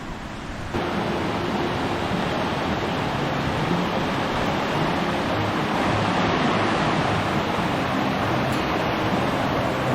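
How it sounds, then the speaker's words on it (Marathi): A full, rain-swollen river rushes through dense forest in Maharashtra, a loud, steady roar of flowing water close by, continuous for the whole stretch with no voices. "इथे एक नदी आडवी आली आपल्याला तिला ओलांडून पलीकडे जायचं आणि बऱ्यापैकी भरलेली आहे"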